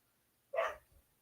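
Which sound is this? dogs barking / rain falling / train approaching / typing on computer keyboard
dogs barking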